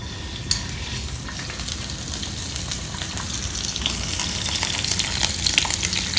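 Shrimp and tofu stir-fry for pad thai in a hot pan, a continuous close sizzle and crackle that slowly builds in loudness, with occasional scrapes and clinks of stirring and no talking.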